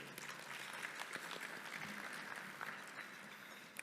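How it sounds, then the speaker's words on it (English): An audience at an annual luncheon applauds with dense, even clapping that sounds faint and somewhat distant, steady from start to finish. "Let's give them all a round of applause for getting it kicked off."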